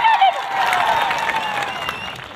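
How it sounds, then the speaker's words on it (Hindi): A large crowd at an Adivasi Day public rally in Dungarpur applauds and cheers, a loud dense wash of clapping with a voice briefly audible at the start. "एक बार जोरदार आपके लिए तालियां बजा दी जाए"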